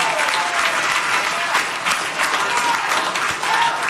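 A room full of people stands, cheering and applauding with loud, dense clapping that runs unbroken the whole time, close and enveloping.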